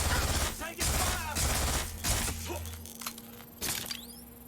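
Gunfire bursts in the Watch Dogs Legion video game, sharp cracks and rattling volleys spread through a few seconds, mixed with breaking, shattering impacts and game voices talking over the action.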